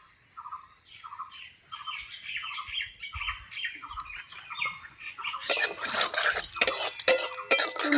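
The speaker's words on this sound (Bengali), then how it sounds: "তেলটা গরম হয়ে গেছে আমি কালো জিরে ফোড়ন দেব" Nigella seeds hitting hot oil for a spicy tengra fish curry, a sharp crackling sizzle that bursts up loudly after several seconds of squawking birds in the background.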